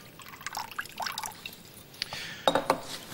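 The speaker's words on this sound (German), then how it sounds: "geben wir ein wenig Wasser hinzu" Slightly warm water is added to vinegar water for a bread salad dressing, giving soft trickles, scattered drips and a few glassy clinks, quiet and close.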